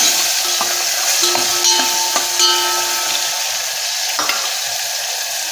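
Ridge gourd pieces sautéing with turmeric in a hot pan, a steady loud sizzle and frying hiss with a few scraping stirs of a spatula against the pan, close up and with no talking.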